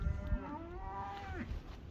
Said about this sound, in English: I got cows to feed. They're yelling around like crazy